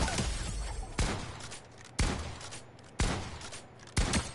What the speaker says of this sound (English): Shotgun headshots.